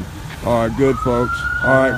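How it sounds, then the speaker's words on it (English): An emergency vehicle siren wails at a distance behind the scene of a pedestrian struck by a vehicle. Someone talks over it in bursts, and a long rising tone holds under his voice. "I hear a siren."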